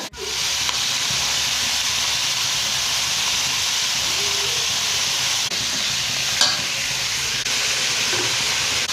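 Onion, garlic, ginger and whole spices (cloves, cardamom, cinnamon, bay leaf) fry in a pan for a butter chicken base, a steady close sizzle and hiss running throughout with a few faint scrapes, no talking.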